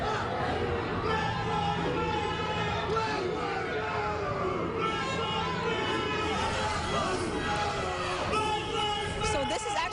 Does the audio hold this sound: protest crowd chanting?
yes